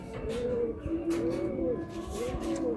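Male pigeons cooing at a pigeon sale, several soft rolling coos repeating in a steady rhythm, fairly close, with faint background noise and no clear talk.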